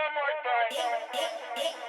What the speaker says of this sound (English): it just creates that kind of like telephone vocal effect